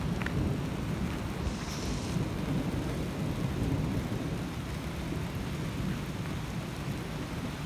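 Heavy rain pours steadily during an extreme thunderstorm over Bolivar, West Virginia, with deep rumbling thunder rolling underneath throughout, and no one speaking.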